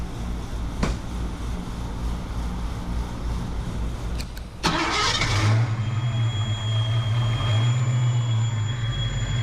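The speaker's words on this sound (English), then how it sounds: "so the car starts" A Ford Mustang Fox Body car engine cranks and catches, then settles into a steady low idle hum that continues to the end, fairly close.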